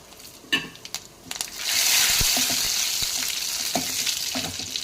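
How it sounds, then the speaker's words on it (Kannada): Mustard seeds, dried chillies and curry leaves hit hot oil with a few sharp crackles, then a loud, steady sizzle and spatter that holds to the end, with occasional pops. "ಎಣ್ಣೆ ಬಿಸಿಯಾಗಿದೆ ಈಗ ಸಾಸಿವೆ ತಪ್ಪು ಒಣಮೆಣಸಿನ್ಕಾಯಿ ಮತ್ತು ಕರ್ಬೇವಿನ ಸೊಪ್ಪು ಹಾಕಿ ಫ್ರೈ ಮಾಡಿ"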